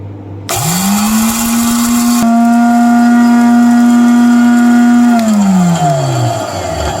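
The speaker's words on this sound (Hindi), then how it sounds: "तो इसमें अब मैं इसको ब्लेंड करके बना लूँगी पाउडर।" Electric blender grinding dried orange peel into powder, a loud close motor whine that revs up sharply, holds steady for several seconds, then winds down in pitch, alone without talk.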